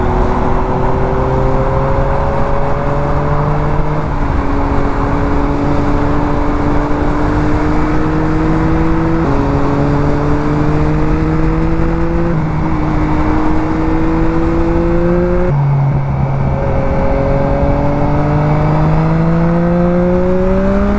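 Riding a 2021 Yamaha MT-09 motorcycle: a loud, constant engine drone from on board, rising in pitch through each gear, then dropping at every shift, repeating several times under heavy wind rush.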